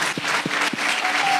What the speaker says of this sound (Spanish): ¿Me ayudan a aplaudir?